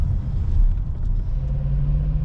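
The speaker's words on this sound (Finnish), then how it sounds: "Ajetaan Mustangi tänne muiden autojen viereen tuonne päin." A Ford Mustang rolls slowly into a parking lot during a May Day cruise in Jyväskylä, its low engine rumble steady and close throughout, with no talking.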